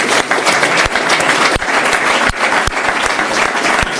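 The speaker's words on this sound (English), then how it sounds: "Can you please give them a warm round of applause again?" An audience gives the speakers a warm round of applause at a forum on democratic participation in the 2019 European elections, continuous dense clapping with a few sharp, close individual claps standing out.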